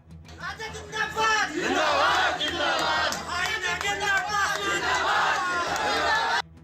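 Supporters of a Congress candidate chant slogans together at an election gathering in Rosera, a dense, loud crowd roar of many voices that holds steady throughout.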